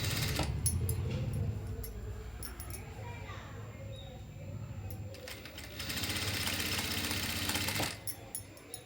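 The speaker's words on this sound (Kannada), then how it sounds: "ನೆರಿಗೆ ಸ್ಟಿಚ್ ಮಾಡ್ಕೋತಾ ಇದ್ದೀನಿ." Sewing machine stitching pleats into a saree at a tailoring class, a steady close mechanical whirr that runs in bursts with short pauses, with faint talk mixed in.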